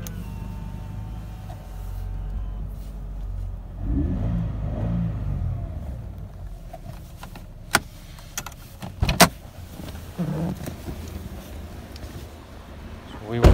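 A Subaru BRZ's power folding mirrors whir with short motor hums while the car sits idling, low engine rumble beneath, punctuated by a few clicks and clunks.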